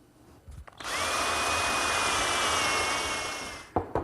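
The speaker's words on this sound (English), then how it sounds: "I'm just drilling some holes for dowel pins" A power drill whirs loudly for about three seconds in one steady run, drilling dowel pin holes for a computer desk, with brief clicks and knocks before and after.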